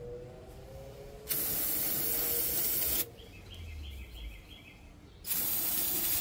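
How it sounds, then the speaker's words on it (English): Two bursts of brake parts cleaner hissing from a straw nozzle onto a part of a 2006 Nissan Pathfinder's air-conditioning system, loud and close, with a quieter pause between them. "we're going to spray that surface down to get that dye off of there"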